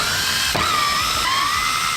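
A power drill or driver whines steadily and loud close by, its pitch dipping and rising as it runs fasteners into parts of a Nissan 300ZX.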